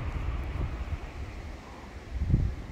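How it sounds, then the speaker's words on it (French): Strong foehn storm wind roaring through a forest in low, blustery surges, with a heavier gust swelling near the end. "les rafales de la fin du monde dans la forêt"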